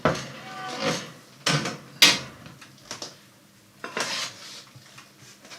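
A lidded stew pot goes into a preheated oven at 170 degrees, with several sharp metallic clanks and bumps, a heavy knock of the pot and rack, and quieter rattles between them, close by and without talk.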